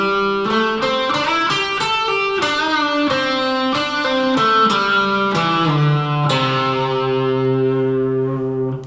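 The second line of a song's guitar solo on a distorted, effects-laden electric guitar: a quick run of plucked notes with bends, ending on a long ringing sustained note, close and solo.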